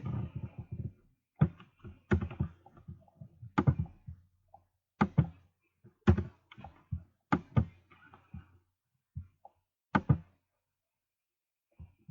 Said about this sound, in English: I'm typing in the information he's requesting